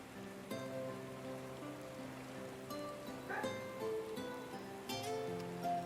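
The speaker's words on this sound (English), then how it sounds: "Are we gonna sit around drinking in the rain?" Soft, steady rain pattering in the video game Final Fantasy XIV, faint and continuous beneath gentle sustained musical tones.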